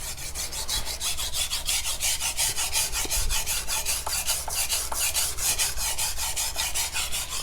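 A Magnacut steel knife blade is drawn across a flat sharpening stone in rhythmic rasping strokes, roughly four per second, close and even, with no talk.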